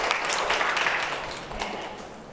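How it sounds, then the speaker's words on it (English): Audience at a career night applauds a volunteer, a burst of many hands clapping that gradually tapers off, fairly close and without talk. "I want to give her a round of applause"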